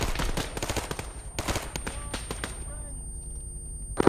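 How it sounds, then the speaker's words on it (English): Gunfire in the military video game Arma 3: dense bursts of automatic fire, loud at first and then thinning out, under someone talking. "Parker's opening fire."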